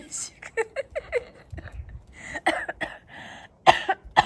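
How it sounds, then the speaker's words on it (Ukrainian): A few sharp coughs break through amid quiet conversation, close by, followed by a louder cough burst near the end. "У мене ж кашель начався."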